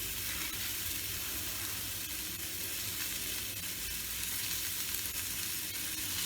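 Onion for a katla fish curry (macher jhol) sizzles and fries in hot oil with a soft, even hiss and faint crackle, fairly quiet and steady, with no talking.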